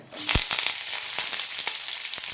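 Urad dal, chopped onion and curry leaves frying in hot oil in a pan, a dense continuous sizzle with a few soft stirring knocks, close and steady throughout.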